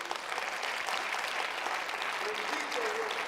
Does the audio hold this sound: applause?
yes